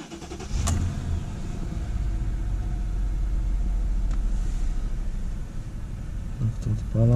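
A Mercedes S550 W221 engine turns over and catches, then settles into a steady low rumbling idle that holds at moderate level, with a brief voice near the end.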